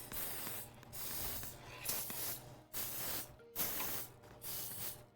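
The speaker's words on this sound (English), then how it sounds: "I always spray this over the sink just so we don't get oil all over the whole kitchen" Cooking oil spray hissing over a kitchen sink in several quiet bursts, each a second or so long, separated by brief pauses, close and faint.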